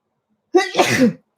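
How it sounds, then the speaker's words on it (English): A single sharp sneeze, close and loud, with a quick intake followed by the explosive burst, then silence. "I got to sneeze again."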